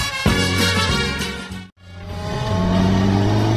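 A motorcycle speeds off, its engine revving loudly up through the gears with rising whine, briefly cutting out before picking up again as it pulls away close by.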